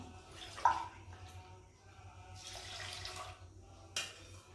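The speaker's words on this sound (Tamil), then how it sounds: "நான் இப்போ 4 டம்ளர் பால் ஊற்றுறேன்." Milk is poured into a rice and split moong dal mixture for akkara vadisal, a faint, soft liquid trickle and splash heard close by in a quiet kitchen.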